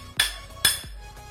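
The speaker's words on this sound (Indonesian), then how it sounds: "Bantuan palu" A hammer strikes a metal ground rod being driven into hard, stony former boundary-stone soil, two sharp ringing metallic blows about half a second apart, close and loud with short decays.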